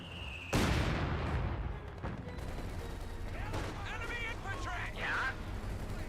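A mortar half-track firing in the video game Company of Heroes 2, a sudden loud blast followed by rumbling battlefield gunfire and distant shots, with a caster talking throughout.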